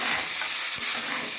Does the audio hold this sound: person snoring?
no